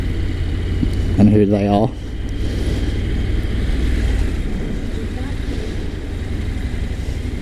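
A Honda NC750X parallel-twin motorcycle engine rumbles steadily and deeply while riding, a continuous throaty drone with someone talking briefly over it near the start.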